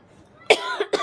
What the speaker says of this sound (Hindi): खांसी हो रही यार भयंकर।